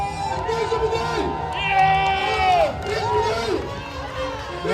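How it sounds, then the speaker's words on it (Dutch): Roadside crowd at the Brunssum carnival parade of 2020 cheering and shouting along the route, a lively mass of voices with high calls rising above, while a person talks close by. "die kregen ook het applaus van het publiek hier langs de kant."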